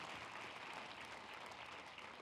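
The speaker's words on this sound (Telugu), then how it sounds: "ఒకసారి మనం గట్టిగా గట్టిగా గట్టిగా చప్పట్లతో ధన్యవాదాలు తెలియజేస్తూ" An audience at a live event clapping loudly and steadily for a couple of seconds, a dense continuous patter of many hands filling the room, with no talking over it.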